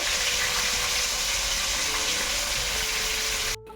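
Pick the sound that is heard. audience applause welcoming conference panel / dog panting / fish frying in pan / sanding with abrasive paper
fish frying in pan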